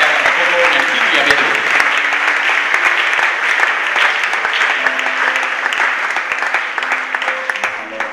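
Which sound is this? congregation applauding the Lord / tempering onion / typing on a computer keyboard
congregation applauding the Lord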